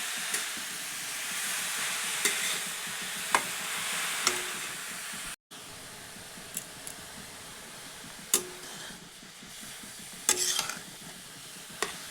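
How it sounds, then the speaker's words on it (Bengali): Grated carrots for halwa fry in hot ghee in a pan, giving a soft, steady sizzle with occasional sharp taps and scrapes as they are stirred. "গাজরটিকে দিয়ে কিছুক্ষণ ভেজে নেব।"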